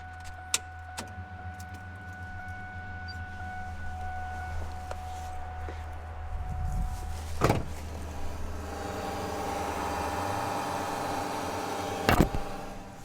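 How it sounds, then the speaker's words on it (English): A Terminator Cobra's fuel pump, part of a return fuel system, runs inside the tank with a quiet, steady whine, broken by a few faint clicks and knocks. "That would be the fuel system in the car."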